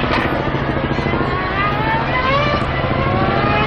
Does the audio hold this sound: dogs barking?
no